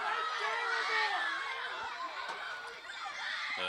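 A soccer crowd at a varsity boys match between Marblehead and Masconomet groans and chatters in displeasure after a foul goes uncalled, a steady dense wash of many voices throughout.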